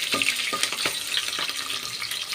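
Green chillies frying in hot oil in a pan, a bright, continuous sizzle close up, with faint stirring knocks running under it.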